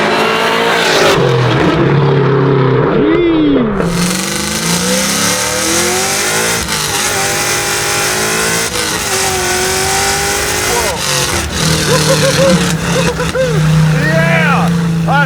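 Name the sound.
supercharged LS9 1967 Chevy Nova engine revving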